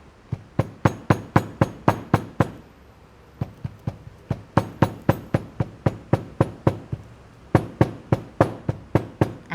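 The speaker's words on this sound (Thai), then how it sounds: "ตัวนี้นะคะใช้ค้อนทุบค่ะนะคะล้ม" A hammer pounds a leather seam flat on the front panel of a cap in quick, regular bursts of sharp knocks, several runs of strikes separated by short pauses, close and clear.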